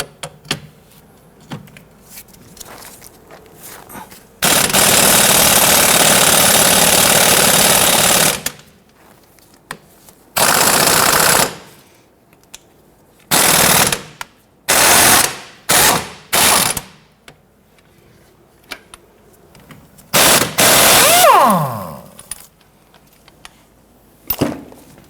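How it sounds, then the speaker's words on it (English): A 14mm socket on a ratchet wrench loosens the sway bar end link nut during front strut replacement on a 1992-1996 Toyota Camry. Close, loud bursts of rapid clicking ratcheting repeat, some long and some short, separated by pauses. "Using a 14mm socket, want to loosen and remove the nut for the sway bar end link."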